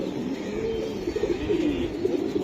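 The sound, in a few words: racing pigeons cooing in a loft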